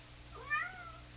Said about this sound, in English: My cat is meowing at me down there.